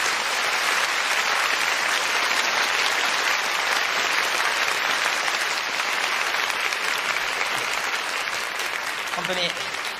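A large theatre audience applauds at the close of the Saint Seiya stage musical, a dense, steady roar of clapping that fills the whole span at full strength with no break.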